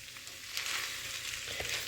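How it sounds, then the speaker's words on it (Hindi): Spiced liver masala (kaleji) roasts on a tawa over the flame, giving a soft, steady sizzle and crackle with a few brief stirring scrapes, fairly quiet and close. "अब मैं इसको भूनूंगी।"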